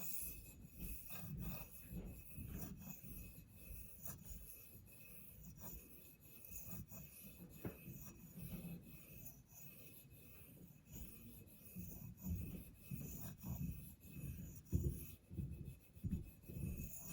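A knife edge rasps across a Spyderco medium bench stone in repeated short strokes, each a quiet gritty scrape in an uneven rhythm, close and soft.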